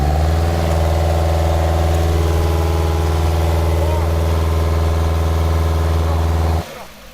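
A Nissan Altima engine with a misfire fault holds a loud, steady, droning hum under throttle, close up, for several seconds, then cuts off abruptly near the end.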